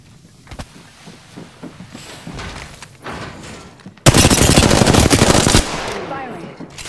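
Loud automatic gunfire from the video game Apex Legends, with scattered shots under voice chatter early on, then a dense, sustained burst of rapid fire that tapers into softer shooting.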